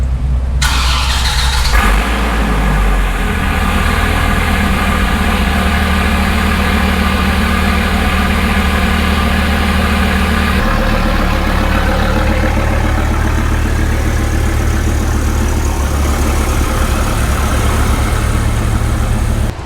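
A Dodge car engine in a garage starts up and runs loudly, a heavy steady roar with a high squealing whine, close and continuous, with no talking.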